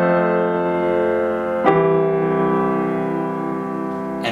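Sustained piano chords in wide-stretch voicings ring out, one held chord giving way to a second struck firmly midway, each decaying slowly and clearly with no talking.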